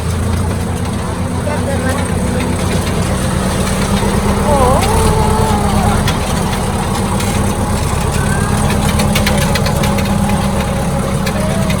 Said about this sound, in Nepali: ट्र्याक्टरमा सबैजना चढेर